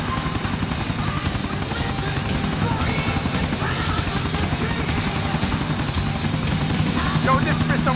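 A helicopter flies in the game GTA IV with a loud, continuous rotor and engine drone that never lets up, while voices talk over it.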